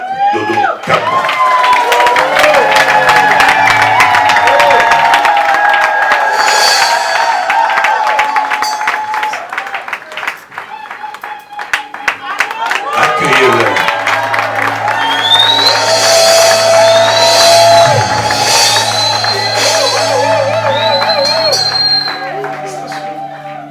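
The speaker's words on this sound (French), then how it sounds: "Vos applaudissements." A church congregation cheers and applauds as a new bishop, Dodo Kamba, is presented, loud crowd shouting and clapping with music and an amplified voice over it.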